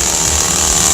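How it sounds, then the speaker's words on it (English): A chainsaw used for juggling revs loud and close, a steady high whining engine buzz held for a moment. "Oh, rev it up a little bit. Give it a little bit of juice. A little bit of chainsaw juggling"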